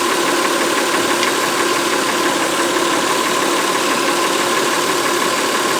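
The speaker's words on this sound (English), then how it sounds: "I don't know if you guys can hear that buffeting in the tailpipe" A Honda Pilot engine idles roughly with a misfire, its exhaust buffeting out of the tailpipe in a loud, continuous, uneven pulsing drone heard up close, with no voices.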